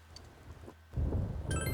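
Rain and a low rumble of thunder in Persona 4 Golden, starting as a faint patter and swelling into a loud, deep rolling rumble partway through, with a bright chime sounding near the end.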